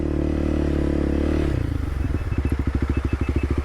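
A dual sport motorcycle labours up an off-road climb in first gear, its engine a loud low rumble that breaks into a fast, steady chugging pulse, with faint scrapes and clatter from the rough trail.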